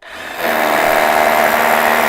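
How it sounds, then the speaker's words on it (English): A power drill boring a hole through a wall for a fence post bolt, a loud steady whirring grind that ramps up quickly and holds constant until it cuts off abruptly. "So what we're going to do now is just drill that hole a bit further."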